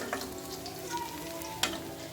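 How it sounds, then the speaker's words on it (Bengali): Pabda fish frying in mustard oil, a steady close sizzle with a sharp crackling burst near the end as the pieces, fried deep red, are handled in the pan. "মাছগুলো সম্পূর্ণ লাল লাল করে ভাজা হয়ে গিয়েছে"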